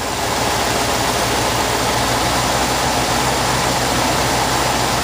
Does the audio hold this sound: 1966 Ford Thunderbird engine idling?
yes